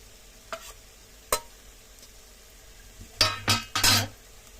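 A spoon stirs fish curry in a pan after garam masala and chopped coriander go in, giving a few faint clinks followed by three louder scraping, sizzling strokes close by.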